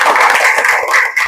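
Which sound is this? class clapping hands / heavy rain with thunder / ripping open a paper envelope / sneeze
class clapping hands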